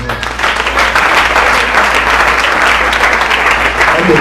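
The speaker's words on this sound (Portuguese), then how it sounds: "Quem pode aplaudir o Senhor?" A church congregation at a worship service applauds the Lord with loud, sustained clapping from a large crowd that continues unbroken through the whole stretch.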